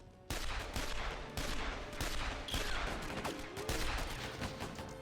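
Rapid volleys of gunfire and blasts from the Lego Batman video game during a Black Mask level, dense and continuous with sharp repeated shots layered over a busy game soundscape.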